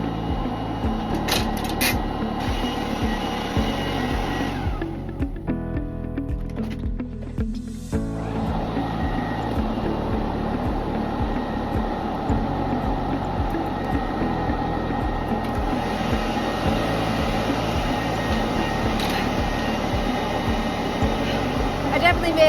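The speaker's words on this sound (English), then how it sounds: "take the leaf blower off the back of the machine, use this a little bit on the inside and see what else comes out of there." A leaf blower runs steadily while blowing out a residential dryer vent, a loud continuous whooshing roar with a short dip in the middle, and people talking over it.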